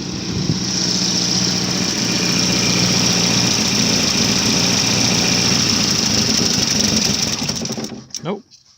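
A Volvo 940 Turbo engine runs steadily after a cold start, a loud, even idle with a buzzing, slightly knocking character, then it abruptly stops near the end.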